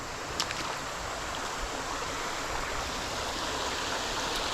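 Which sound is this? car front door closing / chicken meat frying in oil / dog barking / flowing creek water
flowing creek water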